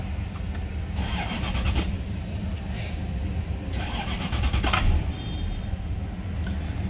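A 1996 Lexus LS 400 (XF20) that is hard to start cranks in two whirring bursts over a steady idle-like rumble, heard close with light background noise.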